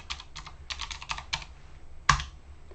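Keys clatter on a computer keyboard as a password is entered for a Raspberry Pi setup, with a quick run of close, crisp taps and one sharper final keystroke.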